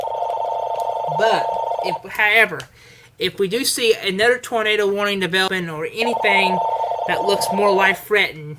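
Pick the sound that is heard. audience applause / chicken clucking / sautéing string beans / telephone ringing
telephone ringing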